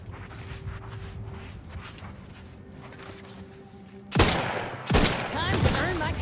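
Rifle gunfire in the video game The Outer Worlds 2, a low rumbling backdrop that breaks into two loud, sharp bursts of shots near the end.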